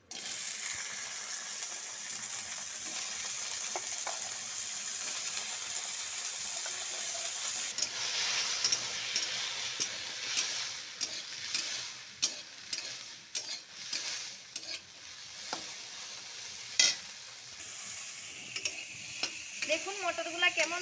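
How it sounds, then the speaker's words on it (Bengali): Green peas fry lightly in a little white oil in a wok, a steady hiss of sizzling with scraping stirs and clinks from a spatula, continuous and close with no talking. "এই মটরশুঁটিটাকে একটু কড়াইতে হালকা করে ভেজে নেব"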